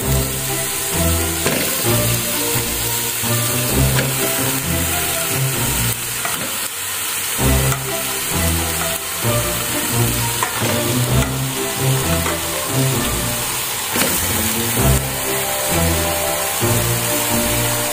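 Duck sizzles loudly in a pan with lemongrass, lime leaves and bay leaves for bebek betutu, a steady frying hiss broken by occasional stirring scrapes, close and continuous throughout.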